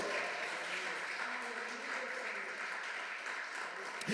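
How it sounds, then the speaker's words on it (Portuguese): A church congregation claps in praise, a faint, steady wash of applause with some voices mixed in, continuing evenly throughout. "Você pode aplaudir o Senhor Jesus por isso?"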